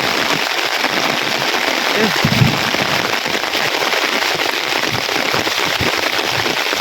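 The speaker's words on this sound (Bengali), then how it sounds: "প্রচন্ড বেগে বৃষ্টি" Heavy rain pours down in a village, making a dense, steady hiss with scattered crackling patter of drops, loud and close throughout.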